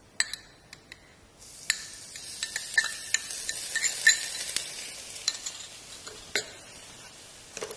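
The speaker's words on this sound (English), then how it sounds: "saute my blended paste, onions and all that, onions and garlic" A blended spice paste with onions and garlic sautés in a pan for Malaysian fried vermicelli, a steady sizzle broken by repeated scraping stirs and light clinks of a utensil against the pan.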